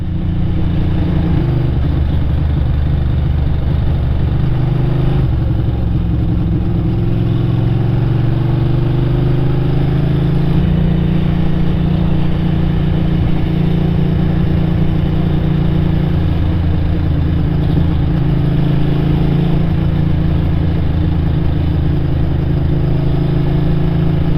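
A Ducati 600 Supersport motorcycle engine drones loudly while riding, its pitch rising and falling through gear changes over a constant rush of wind, with no voices.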